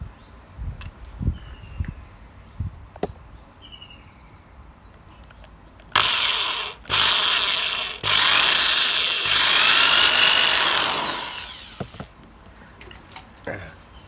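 A power drill with a 2.5 mm bit bores a small hole in a jewelry frame for a Buddhist amulet, a loud steady whine running in several bursts of a few seconds each, with short pauses and light handling taps before.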